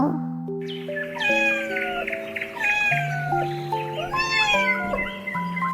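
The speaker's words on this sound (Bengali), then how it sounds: "বিড়াল ডাকে" A cat meows repeatedly in drawn-out, tonal cries set against a steady musical backing with sustained notes, close and clear throughout.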